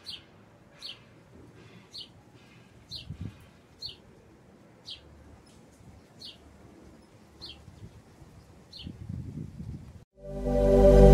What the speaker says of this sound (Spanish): me gusta escuchar el canto de los pajaritos